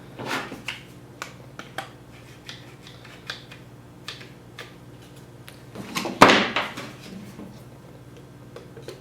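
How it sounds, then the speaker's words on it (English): Clamps tighten down on a wood piece in a workshop, a string of close sharp clicks and ticks at an uneven pace, peaking in a louder rattling clatter near the end. "I'm going to place this piece on top of it, and I'm going to clamp it down."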